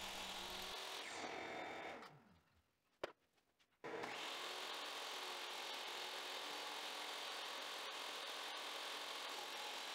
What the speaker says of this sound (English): Here I am cleaning up the edges with the table saw and making sure everything is nice and square.